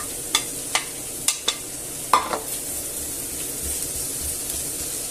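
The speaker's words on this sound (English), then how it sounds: "So what I'll do is throw in the pork." Pork thrown into a pan over softened vegetables sets off a handful of sharp clacks and spatters of stirring, then settles into a soft, steady sizzle; no one speaks.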